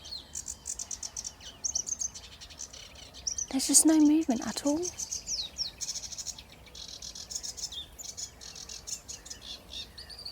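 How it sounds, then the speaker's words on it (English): A bird sings unseen at Deeping Lakes Nature Reserve in spring, its high chirps and tweets repeating through the clip alongside insect-like trills, while someone talks briefly near the middle. "I swear this bird plays tricks. Because it sounds like it should be at the front"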